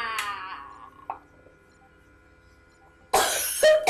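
A soft tonal hum fades early, then a sudden burst of harsh coughing breaks out near the end, loud and close, in a Call of Duty game.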